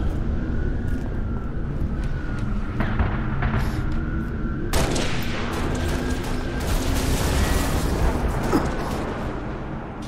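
A fusion coil blowing up during a video game battle, a sudden loud boom in the middle of a rumbling wash of gunfire and engine drone, with the blast's roar trailing off slowly.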